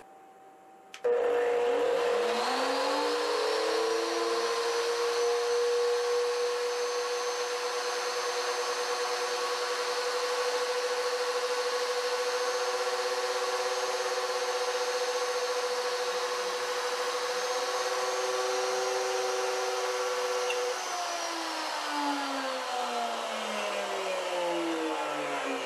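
A CNC machine spindle starts with a sharp spin-up into a loud, steady high whine that holds for about twenty seconds, then winds down in falling pitch as a tripped breaker cuts the power mid-cut.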